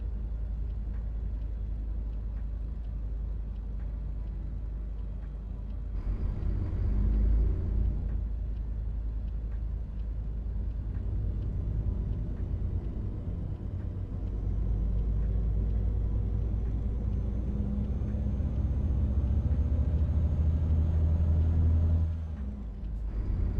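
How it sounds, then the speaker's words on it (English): Truck engine in Euro Truck Simulator 2 gives a steady, deep low rumble that stays loud throughout, swelling slightly at times and dipping briefly near the end, with no talking. "This truck has a decent sound by default."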